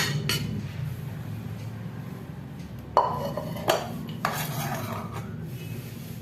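Modak dough being moved from a pan onto a metal plate, giving a few scattered clinks and scrapes of metal. A soft background hum runs underneath, and sharper knocks come near the middle of the clip.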